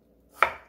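One crisp chop of a knife through a large potato on a cutting board: a single short, sharp thud with a quick decaying ring, close by, otherwise silent.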